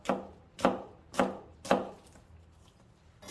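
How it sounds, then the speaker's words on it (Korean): A knife chops sharply on a cutting board, four evenly spaced strokes followed by quiet, while julienning onion. "양파 채 썰었고요"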